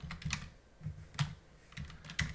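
Quiet, close typing on a computer keyboard while working through a crossword, with soft irregular key taps and a few slightly stronger clicks spaced across a couple of seconds, no talking.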